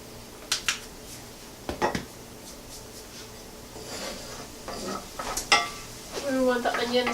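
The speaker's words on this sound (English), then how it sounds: "While we have the garlic and the onion sauteing" Garlic and onion sautéing in a pan for quiche Lorraine, with faint sizzling, a few scattered utensil scrapes and clicks against the pan, and a brief voice near the end.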